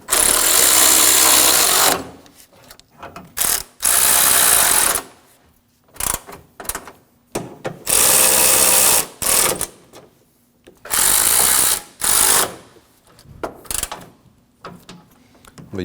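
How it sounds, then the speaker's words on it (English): Bursts of a power ratchet driving and snugging down 10mm bolts along the core support of a 2016-2022 Honda, loud close whirring runs of a second or two with short gaps and clicks between. "Now we can go around the core support and snug down all of our 10mm bolts."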